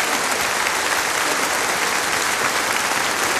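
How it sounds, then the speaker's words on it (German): Steady, dense audience applause fills a TV folk-music show broadcast from Bolzano, loud and continuous throughout with no voices on top. "Der Applaus ist für dich."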